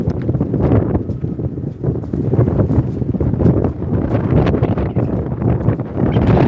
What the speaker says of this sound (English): Wind blowing.